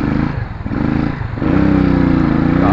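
A motorcycle engine revs loudly and steadily, dipping briefly before climbing to a stronger, sustained rev about halfway through.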